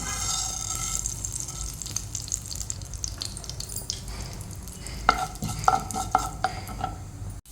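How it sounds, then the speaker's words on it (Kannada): Mustard seeds splutter in hot coconut oil for fish sukka, a steady frying hiss broken by a cluster of sharp pops toward the end, close and fairly loud with no talking. "ಇವಾಗ ಸಾಸಿವೆ ಸಿಡ್ದಿದೆ"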